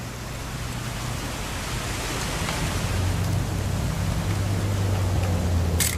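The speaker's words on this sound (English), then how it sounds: "It's gonna rain the whole weekend," Rain in the What Remains of Edith Finch video game, a steady loud hiss of rainfall with a low rumble underneath that swells slightly over time.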